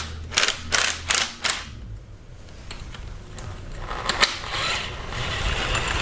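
A ratchet turns a 10mm socket on a Kia Optima engine during valve cover removal: four quick clicking bursts up close early on, then quieter scattered mechanical clicks over a rising hiss.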